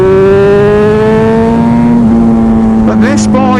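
A motorcycle engine runs loud and close with a steady harmonic drone whose pitch drifts slightly, and a voice speaks over it near the end.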